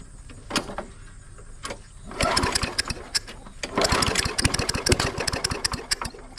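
A John Deere mower with a Briggs and Stratton engine runs without its muffler: a few sputters at first, then loud, rough, popping engine noise up close with uneven bursts.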